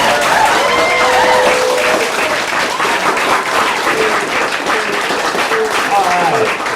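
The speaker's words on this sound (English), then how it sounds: "everybody just clap like they're really here" Loud, steady applause from a live theater audience at an Off Off Off Off Broadway comedy show in Charlottesville, Virginia, with cheers and whoops rising over dense clapping throughout.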